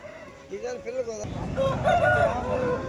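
Roosters at the Peeleru fighting-cock market crow and cluck amid a busy outdoor crowd, with voices talking over the calls.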